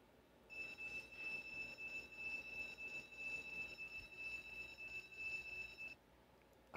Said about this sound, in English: I'm sorry about that alarm